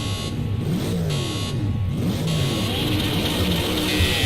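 Race car engines in a racing video game rev and roar continuously, with rising and falling engine pitch sweeps, loud and steady throughout.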